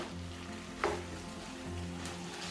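Chicken frying in a pan, cooked for street-style tacos, gives a steady close sizzle with a brief scrape of stirring early on, with a low hum underneath.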